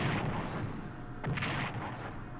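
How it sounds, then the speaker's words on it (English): Naval gunfire in the World War II strategy game Strategic Command: World at War fires on a carrier, with three heavy booming shots spaced about a second apart over a low rumble. "Take a shot at the light carrier, or carrier escort."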